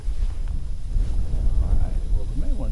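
Wind blowing outdoors by the water on a bass fishing trip, a gusty low rumble buffeting the microphone, with faint sounds over it.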